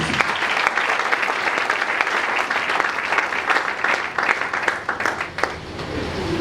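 A church congregation applauds loudly together at a worship service, dense sustained clapping from many hands filling the room without a break.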